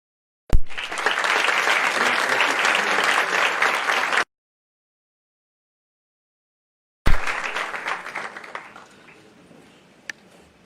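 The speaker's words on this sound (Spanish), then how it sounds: "Y ahora un aplauso muy especial para estos 2 finalistas del grupo que tenemos" An audience at a contest final round applauds in a dense, loud burst that cuts off abruptly, then after a gap a second round of clapping starts strong and fades away.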